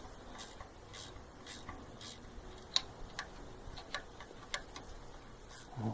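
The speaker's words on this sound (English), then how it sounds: "these little ratchet spanners are just superb" A small ratchet spanner clicks faintly while working on a Land Rover Defender 110, with sparse, irregular ticks and a few sharper snaps over a quiet background.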